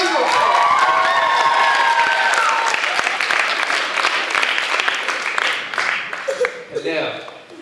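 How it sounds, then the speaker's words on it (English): Loud, sustained applause with cheering from a large crowd, gradually thinning toward the end as a few voices carry over. "Give him a round of applause."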